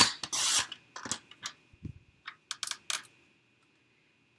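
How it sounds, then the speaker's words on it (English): A paper trimmer slices the blank edge off a handmade card, heard as a run of close, short rasping strokes and soft clicks that then stop, leaving quiet. "So I'm going to trim off this little edge that has nothing on it."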